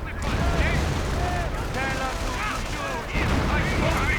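In a World War II strategy video game, artillery and gunfire pound a Panzer IV and an anti-tank gun. Dense booms and crackling shots overlap continuously alongside game voices and battle noise.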